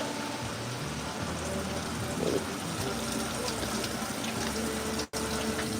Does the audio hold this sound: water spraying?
yes